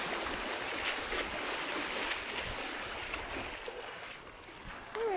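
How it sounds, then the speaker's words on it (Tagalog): A fast, strong river current rushing steadily as people cross it, a dense broadband wash of flowing water that stays close and loud throughout with no talk. "mabilis yung agos ng tubig. Malakas."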